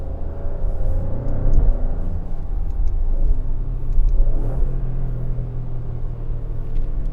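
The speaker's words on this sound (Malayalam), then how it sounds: "റിയൽ എക്സോസ്റ്റിന് വരുന്ന സൗണ്ടാണ് ഇവിടെ ആർട്ടിഫിഷ്യലി ക്രിയേറ്റ് ചെയ്യുന്നില്ല" A 2024 Maserati Grecale Trofeo accelerates with its natural, unenhanced exhaust note, a loud, close engine rumble that climbs in pitch and then settles into a steady drone, heard from inside the cabin with no talking.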